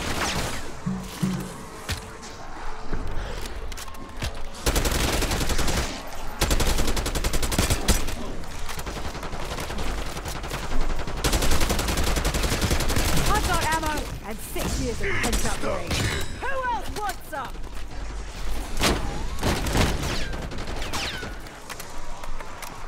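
Sustained gunfire in Black Ops 6 Zombies on the Liberty Falls map, with rapid bursts and heavy volleys running almost nonstop among crashes and game noise, with a voice talking at times.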